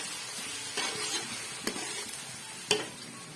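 Ginger garlic paste sizzles in a pan for fish curry masala while being stirred, giving a soft, continuous frying hiss with scraping strokes and two sharp utensil clinks.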